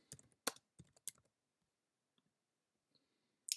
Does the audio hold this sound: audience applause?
no